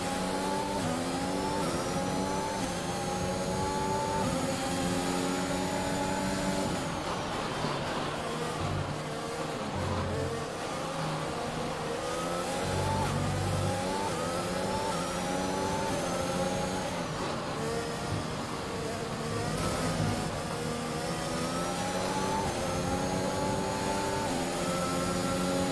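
Race car engine revving hard and steadily in the F1 2021 racing game, with the turbo failing and the car falling apart in the final laps; loud, continuous whine with shifting pitch and no talk.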